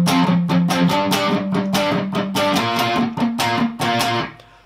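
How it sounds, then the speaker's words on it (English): Distorted electric guitar playing palm-muted power chords in the verse of Insomnia, a chugging rhythm of short choppy strums with chord changes, played alone and up close. "the verse part starts with some palm muted chords."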